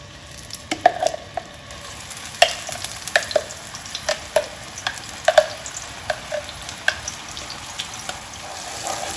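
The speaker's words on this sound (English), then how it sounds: "once the oil is hot, I'm going to add this mixture that we made, the onion paste, garlic and the red chilies" Onion paste, garlic and red chilies fry in hot oil for an Indian curry, a continuous sizzle broken by repeated clinking, scraping stirs from a spoon against the pan, close and fairly loud.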